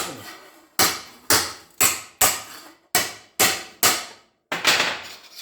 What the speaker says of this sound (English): Nothing high tech about this. Just a big hammer.